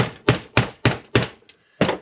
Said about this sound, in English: all you need to do with this side is give it a good bang